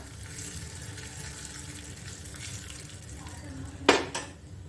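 Red chillies and kasuri methi tempered in hot oil during dal fry: a steady frying hiss throughout, topped by a brief loud burst of sizzle and a clatter of utensils near the end.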